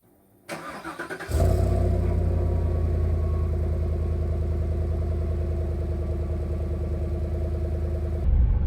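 A 2018 GMC Yukon Denali with a 6.2 V8 and 10-speed starts up with a brief crank, then runs in a steady, deep rumbling drone heard close from inside as it drives.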